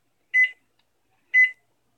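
A microwave oven beeps twice while heating gummy jelly candy, two short clean electronic tones about a second apart, near and clear against silence.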